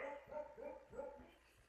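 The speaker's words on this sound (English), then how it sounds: "The dog started barking." Household dogs bark and whimper indoors in a series of short, fairly faint yelps at an irregular rhythm, alone with no talk over them.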